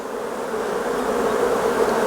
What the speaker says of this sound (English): That's a lot of bees on that frame.